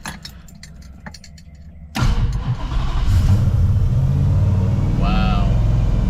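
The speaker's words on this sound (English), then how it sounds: "let's see how the cold start is on this thing" A 1968 Dodge Charger V8 cranks briefly, then fires up on a cold start into a loud, steady rumbling idle with a slight rev, up close and alone.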